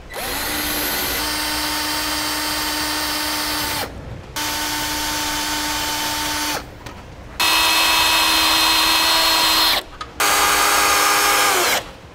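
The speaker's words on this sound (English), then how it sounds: "And we'll work our way up to bigger drill bits." A power drill with progressively bigger bits drills out spot welds on a 2002 Honda CR-V frame, its loud motor whine running in several long bursts with short stops and pitch shifts between.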